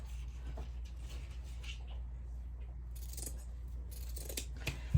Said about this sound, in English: I'm just gonna use my handy dandy scissors